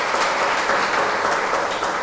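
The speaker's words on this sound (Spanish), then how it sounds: "Le damos un fuerte aplauso al Señor" A church congregation applauds together for a couple of seconds, a steady, dense wash of many hands clapping at close range with no voices standing out.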